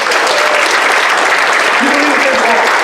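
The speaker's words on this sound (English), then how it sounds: "Give him a nice round of applause." An audience claps in sustained, dense applause at a live comedy show, loud and close throughout with no break.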